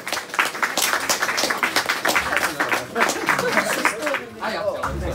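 Applause for the karting season winner at a prize ceremony at the Kartmax track in Lublin: steady crowd clapping running under loud announcer speech throughout.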